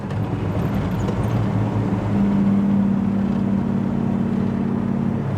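A 1972 Chevelle V8 with a four-barrel carburetor runs while still warming up, a smooth, steady low rumble with a droning tone that swells slightly midway and then holds evenly.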